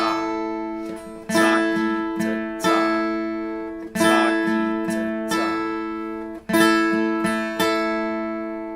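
An acoustic guitar is strummed alone in a steady intermediate pattern for a song, mixing downstrokes and upstrokes, bright ringing chords repeating in even rhythmic bursts, close and clear.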